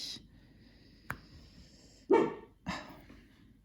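A dog gives a few sharp barks, spaced apart and somewhat distant, with quiet stretches between them.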